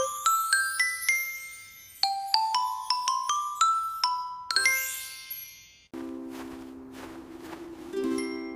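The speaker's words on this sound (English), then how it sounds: "X is for xylophone." Bright xylophone notes ring out in quick rising runs, struck bar by bar with clear decaying dings, followed by a brief lower chime-like passage; crisp, close and solo, with no speech.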